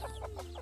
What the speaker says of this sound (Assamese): আমি আহিছোঁ মুৰ্গী ধৰিবলৈ মুৰ্গী মানে ব্ৰইলাৰ মুৰ্গী